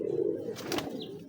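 A hand-held pigeon gives a soft low coo close by, a short murmuring call against quiet room noise, followed by a faint brief high squeak.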